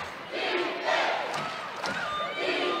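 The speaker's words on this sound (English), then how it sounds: "Good crowd today at the Farrell Center." Crowd noise at a women's college basketball game between Baylor and Maryland at the Farrell Center: a loud, steady roar of cheering and shouting fills the arena throughout, with scattered whistles and squeaks rising above it.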